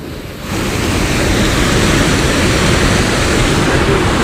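A loud, continuous roar of rushing water at Bhivpuri Waterfall swells in after a brief quieter start and holds steady, with no voices.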